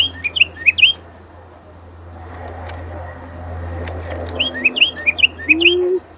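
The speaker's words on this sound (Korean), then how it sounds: "이렇게 앵무새. 앵무새가 있어." Bright, quick parrot chirps come in two short bursts, one at the start and one near the end, over a low steady hum.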